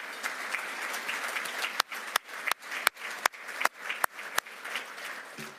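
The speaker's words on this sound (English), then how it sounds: "Let's have a round of applause for Rob and Sue." An audience at an academy gathering gives a round of applause, a steady crowd clapping with a few sharp, louder claps punctuating it and gradually thinning out.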